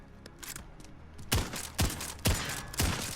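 A Dragon Breath shotgun in Call of Duty: Modern Warfare firing four heavy blasts in quick, evenly spaced succession, each with a short fiery roar, after a few fainter clicks.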